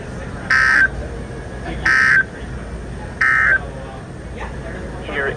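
An Emergency Alert System alert sounds as three loud, identical electronic tone bursts at a steady pace, each about a third of a second long, with a fainter fourth burst trailing at the end.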